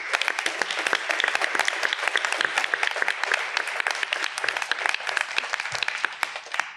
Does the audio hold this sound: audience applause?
yes